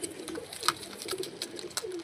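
Pigeons coo softly in low, throaty murmurs, with a few sharp clicks and rustles over a faint hiss, close by.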